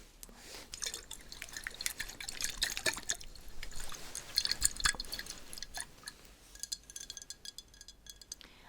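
Water is poured and dripping while a Popin Cookin Japanese candy kit is prepared, sounding as close, quiet splashes and trickles with small clinks and taps of a container, with no talk.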